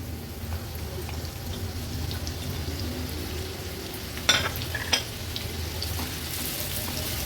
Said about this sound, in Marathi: आता फोडणीला आपण हा मीडियम साईजचा एक कांदा घेतलाय तो ऍड करूया।